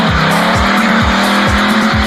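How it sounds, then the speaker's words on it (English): A loud, sustained roar from a Pontiac V8 with a Borla high-flow exhaust at a 1998 Pontiac drag racing event, the engine note steady with rhythmic pulsing. "the V8 exhales through a Borla high-flow exhaust system"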